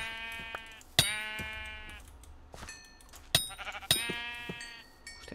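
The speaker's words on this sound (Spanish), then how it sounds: "mira, las ovejas están aquí esquiladas" Sheep bleating in Minecraft Hypixel Skyblock: several sharp, repeated bleats at irregular intervals, fairly close and clear, with quiet gaps between calls and no speech.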